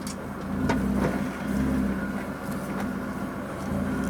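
A Ford Fiesta MK6 engine idles steadily nearby with a low rumbling hum, with no power steering fitted, and the running note stays fairly even with small fluctuations throughout.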